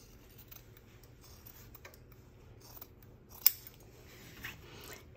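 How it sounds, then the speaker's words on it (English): Quiet, close snips of sewing scissors clipping fabric corners, mostly faint ticks with one sharper cut near the middle, set against a soft room hush. "I'm gonna go through and I'm gonna clip my corners"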